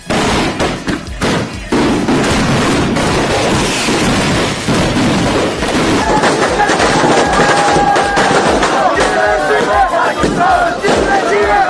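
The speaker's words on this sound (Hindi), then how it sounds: "सड़कों और चौराहों पर जगह जगह आतिशबाजी के पटाखों से फिजा गूंजती रही।" Loud crackling bursts of firecrackers popping in rapid irregular volleys over an excited, shouting crowd celebrating in the streets, dense and close.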